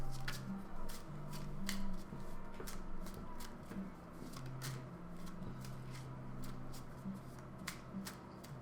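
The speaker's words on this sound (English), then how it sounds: "I'm gonna do a quick shuffle." A deck of playing cards shuffled quickly by hand, a steady run of soft, crisp riffle clicks close by, fairly quiet.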